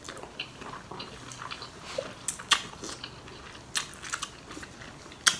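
Close, crunchy chewing and biting of Thai rice noodles with canned-fish curry, pork balls, pickled mustard greens and crisp bitter melon. Irregular crisp bites and crunches come every second or so, with no talking.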